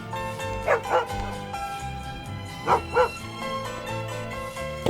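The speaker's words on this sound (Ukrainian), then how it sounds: "Так, це ж собака" A dog barks in two quick pairs of yips, close by, over a light musical background with a short gap between the pairs.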